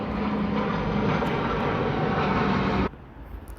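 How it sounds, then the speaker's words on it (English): An airplane passes overhead with a loud, steady engine roar that cuts off abruptly near the end, leaving quieter room tone. "So there's a plane."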